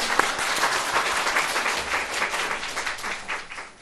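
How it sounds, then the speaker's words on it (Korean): Steady applause from a church congregation honoring a pastor's graduation, a close, lively wash of hand claps lasting a few seconds and fading at the end. "우리 박수 한번 쳐줄까요?"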